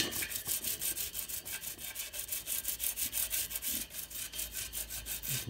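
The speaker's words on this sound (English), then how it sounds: "So it's still there, but if we just give it a bit of" Brush scrubbing surface rust off a metal part cleaned in citric acid, a rapid rhythmic run of close, dry scratchy strokes with no talk.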